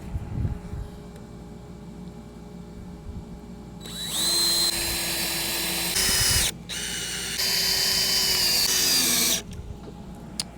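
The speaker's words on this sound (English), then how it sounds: "All right, more pre-drilling." Close power drill pre-drilling scrap wood whines up to a steady high pitch, pauses briefly, then runs again for a few seconds over a quiet room.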